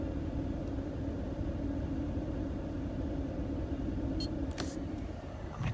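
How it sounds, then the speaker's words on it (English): A 2019 Ram 1500 pickup's engine idles with a steady low rumble throughout, close and constant, with a few brief clicks near the end. "I might have to shut the truck off."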